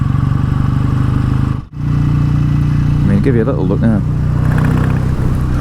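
A BSA A10 Super Rocket motorcycle engine drones loud and steady while riding, with wind buffeting throughout, a brief dropout, and someone talking over it partway through.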